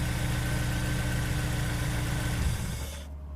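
A Honda S2000 AP1 engine idles with a steady, close, low rumble during an oil pressure test, then is switched off near the end and the sound quickly dies away.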